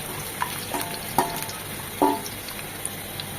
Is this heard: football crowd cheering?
no